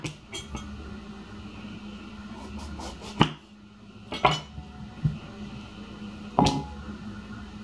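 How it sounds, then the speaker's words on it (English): A knife cuts through a fresh garden eggplant on a hard surface, giving a few sharp, separate clicks and taps at irregular intervals, close and fairly quiet. "all I have to do is get a knife and cut it like this"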